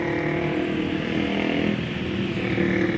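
A motorcycle exhaust gives a steady, rough, close rumble with no break through the whole short stretch.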